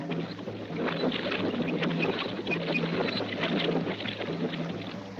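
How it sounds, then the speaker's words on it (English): A cartoon rowboat is rowed hard to stay clear of falls, with a continuous rush of churning water and splashing oar strokes under steady wind-like noise. "Now you keep rowing so we won't get pulled over those falls."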